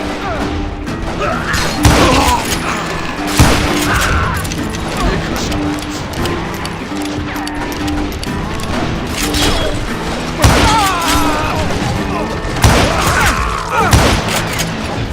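Repeated gunshots and loud crashing impacts fill a shootout in the video game Call of Juarez: Gunslinger, bursts of fire arriving every couple of seconds among thuds and booms, with voices talking over the action.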